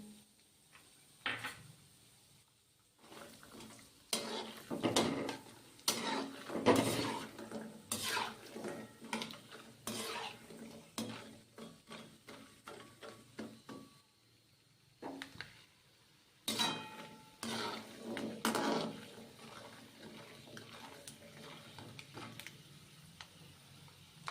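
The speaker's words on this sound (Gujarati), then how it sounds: "તો અખરોટને આપણે ગોલ્ડન બ્રાઉન કરવાના છે" Walnuts roasting in a pan for gunda laddoo are stirred with a spoon, giving repeated clattering scrapes and ticks in irregular bursts with short pauses, close and fairly quiet.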